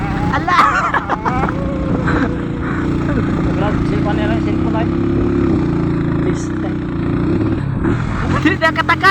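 A motorcycle engine labors up a steep, rough mountain road, its steady low drone holding close and loud for the whole stretch while people talk over it.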